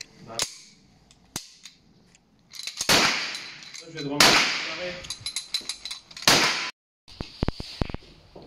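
An MP9 fires at a shooting range in sharp, loud bursts and single cracks, with echoing clangs and people talking between and under the shots.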